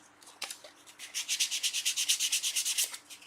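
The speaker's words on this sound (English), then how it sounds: "A bit of sand, just take the furry bit off the edge of that." Sandpaper rubs briskly across the furry end grain of a wooden dovetailed box, a close, steady run of about fifteen rhythmic back-and-forth strokes after a couple of light taps.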